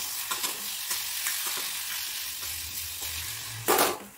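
Roasted brinjal, cooked and mashed for bharit, stir-fried in a pan with steady soft sizzling and scraping stir strokes, one louder scrape near the end.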